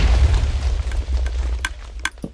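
Deep booming blast from a TNT firework cannon in Minecraft, a heavy low rumble at the start followed by a few sharp crackling pops as it fades.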